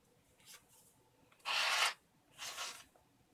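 Paint being scraped across an art journal page, a few short dry rasping strokes, the middle one loudest, close and quiet with no talking.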